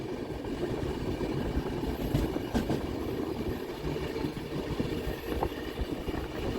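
Darjeeling Mail express train running on its tracks, a steady close rumble of wheels and carriages with faint clicks and rattles throughout, no voices.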